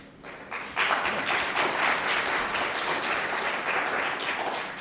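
An audience at a university lecture bursts into applause as the talk begins, with dense, sustained clapping that starts abruptly and stays fairly loud to the end.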